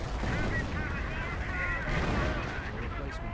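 Machine gun fire in a World War II tank-battle video game, a continuous clatter of gunfire with distant booms, under steady battle noise and faint talk.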